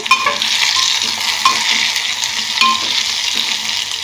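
Chili powder sizzles as it fries in a pan with onion and garlic for a stuffed eggplant curry, stirred with steady scraping strokes over a constant close, loud frying hiss.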